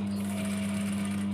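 Sewing machine stitching single-layer mesh fabric with a short stitch length, a steady close mechanical hum with a constant pitch running without a break.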